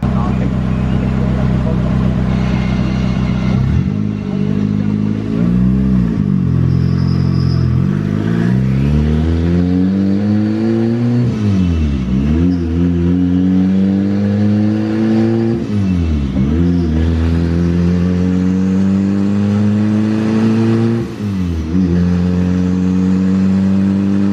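A turbocharged B18C1 engine in a Honda Civic hatchback roars and revs repeatedly on a dyno, rising through long pulls then dropping back, with whining pitch sweeps and brief dips between runs.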